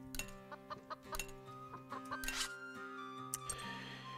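A chicken clucks in the video game Fuga: Melodies of Steel, a run of short bright clucks in quick succession over a steady musical backdrop.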